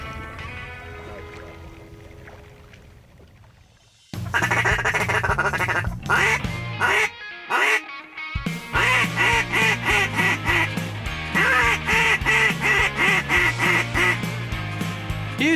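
Ducks quack near a hunting blind over flooded rice fields. After a quiet, murky start, a loud, rapid run of repeated quacks builds in close, rhythmic bursts.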